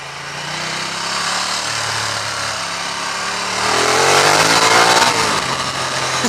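A 2015 Ducati Diavel motorcycle engine accelerates hard on a country road, a loud continuous roar whose pitch climbs through the gears, with strong wind noise throughout.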